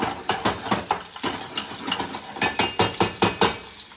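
Salmon cooks in a pan, heard as a string of sharp metallic clacks and scrapes, like a utensil knocking against the pan, over a faint background sizzle, with quicker evenly spaced taps toward the end.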